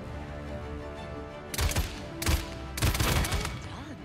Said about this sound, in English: Your primary weapon is your assault rifle. Ying will create some illusions for you to shoot.